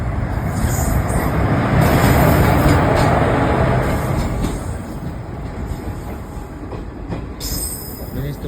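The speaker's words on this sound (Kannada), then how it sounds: "ಬಟ್ ಈಗ ಸೌಂಡ್ ಬರ್ತಾ ಇದೆ, ಟ್ರೈನ್ ಇದೆ." A train passes at Kundapura railway station, its wagons rumbling and clattering loudly over the rails with a faint squeal of wheels, the roar gradually easing as the carriages roll by.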